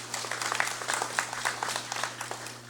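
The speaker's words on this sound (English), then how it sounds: "Please give them another round of applause." Audience applause during the first day of a congressional special session, a steady, moderate patter of many hands clapping that carries on evenly without talk, with a low electrical hum beneath it.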